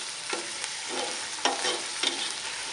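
Chicken pieces browning in a pot for hot and sour chicken vegetable soup give a continuous close sizzle, broken by several distinct stirring scrapes of a spoon against the pot.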